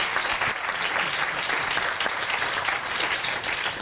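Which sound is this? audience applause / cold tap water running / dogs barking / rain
audience applause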